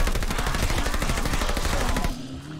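Rapid machine gun bursts from a first-person shooter set in World War II, COD Vanguard, loud and close, firing continuously for about two seconds before cutting off abruptly.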